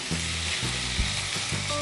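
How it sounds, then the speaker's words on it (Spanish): Chicken fries in butter in a pot over moderate heat, giving a steady, close sizzle with soft stirring scrapes recurring about every half second. "a fuego moderado vamos a agregar el pollo y cocinaremos hasta que esté doradito"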